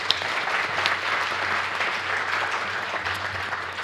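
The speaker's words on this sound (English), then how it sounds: "Let's give them one more round of applause." An audience claps for the panelists at a food safety panel discussion, producing steady, dense applause that lasts the whole stretch at a moderate level without fading.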